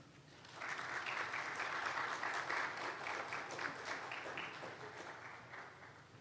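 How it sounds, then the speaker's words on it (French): Audience applause at the closing ceremony of an economics training course for journalists swells in quickly, holds as a dense, even wash of many hands for several seconds, then eases off slightly. "sous vos applaudissements"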